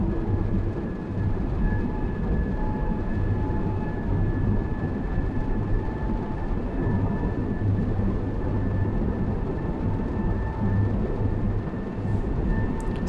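A ScotRail express bound for Edinburgh Waverley in Train Sim World 3 rolls along with a constant rumbling, clattering drone and a faint steady whine, loud and close throughout.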